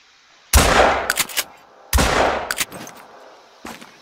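Two loud, sharp gunshots ring out in the hunting video game Hunter Call of the Wild during a turkey hunt, each followed by a rolling echo and a few clicks, with a fainter knock near the end.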